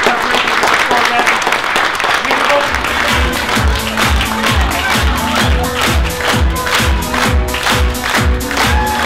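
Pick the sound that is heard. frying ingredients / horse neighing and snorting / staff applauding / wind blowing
staff applauding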